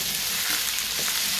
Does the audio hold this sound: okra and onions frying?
yes